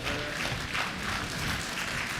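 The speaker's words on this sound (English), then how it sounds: "Please, clap for yourselves." Graduates and guests at a book presentation and graduation lecture clap for themselves, a dense, even burst of applause from the whole room.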